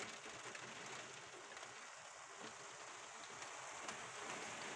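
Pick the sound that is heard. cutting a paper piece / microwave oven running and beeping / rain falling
rain falling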